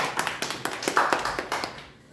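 A small church congregation claps in a brisk, close rhythm of distinct hand claps for about two seconds, then stops abruptly.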